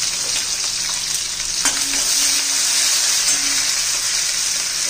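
Capsicum sizzles steadily in a hot pan of oil with chilli and garlic for a Marathi cabbage sabzi, a close, continuous bright frying hiss with faint stirring clinks.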